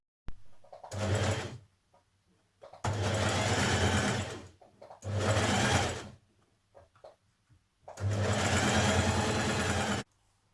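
A sewing machine runs in four steady bursts, stopping and starting between them, while it stitches an elastic casing on a jersey dress, close and clear with no talking.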